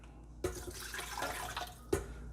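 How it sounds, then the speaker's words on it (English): Cold water poured into a Ninja Professional 1000 blender jar, a soft splashing trickle that starts abruptly and runs for about a second and a half, close and fairly quiet, ending with a small splash. "So what I do is I start with some cold water,"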